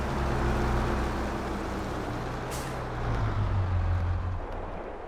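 A truck in Farming Simulator 22 idles and rumbles with a low engine drone, a brief hiss of air brakes releasing midway, then the engine note rising as it pulls away.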